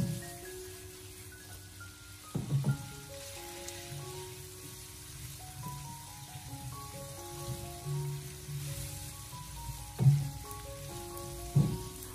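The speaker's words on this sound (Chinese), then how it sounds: "然后再用锅铲将它快速的翻炒一下" Green beans and pork are stir-fried in a wok with a metal spatula, a soft sizzle running under clanks and scrapes of the spatula at irregular intervals, with background music playing.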